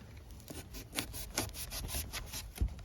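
A Ukrainian-made Pohvalin B4 bushcraft knife cutting through material, giving rough rasping sawing strokes at an uneven pace, close and moderately loud, with a sharper thump near the end and no talking.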